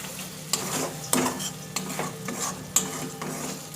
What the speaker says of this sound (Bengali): দেখো এবার এটাকে আমি ভালো করে এর সঙ্গে মিশিয়ে ভালো করে ভেজে নেব।